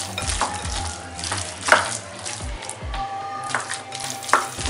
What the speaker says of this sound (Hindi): तो पहले इसको अच्छे से हम मिक्स कर लेंगे